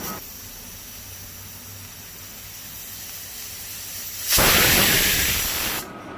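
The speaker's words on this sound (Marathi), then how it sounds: "गॅसीर कुकर दवरून 3 शिट्यो काडून घेवपाक जाय." A pressure cooker on a gas stove lets off a loud, sudden hissing burst of steam from its whistle. The burst lasts about a second and a half and sits over a steady low background hum.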